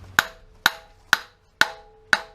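Five evenly spaced sharp metallic hammer taps drive a passenger-side axle into place on a 2004 Honda Element, each strike ringing briefly and decaying before the next, close and clear with no talk.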